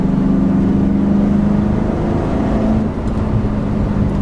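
A 1997 Mustang Cobra V8 engine pulling hard uphill at full throttle, a loud, steady, rumbling drone heard from inside the car, easing slightly near the end, with no voices.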